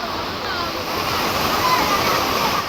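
Monsoon floodwater in Chiplun rushes under a bridge during heavy rain, its level right up against the deck, making a loud, unbroken roar of churning water close by.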